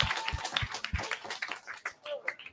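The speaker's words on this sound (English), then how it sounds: "Give him a round of applause" Guests at a dinner event clap for a 13-year-old boy: a thin, uneven spatter of separate claps from a small group, with voices talking over it.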